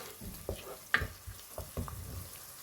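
Whole spices, including black cardamom, fry lightly in oil alongside onions: a soft, quiet sizzle under a few sharp utensil taps and clinks, with no voices.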